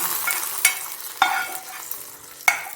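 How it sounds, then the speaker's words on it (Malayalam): Cashews and raisins sizzle steadily in ghee, close up, while a spoon scrapes and knocks against the pan three times. "ഞാനിവിടെ കാഷ്യൂനട്ടും നമ്മളെ കിസ്മിസും നെയ്യിൽ വറുക്കാൻ വച്ചിട്ടുണ്ടായിരുന്നു"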